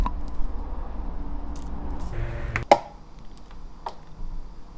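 Garlic chopped on a board while a Korean seasoning sauce is mixed for pumpkin leaves: one sharp, close knife strike on a cutting board stands out, with faint lighter taps and kitchen handling noise around it.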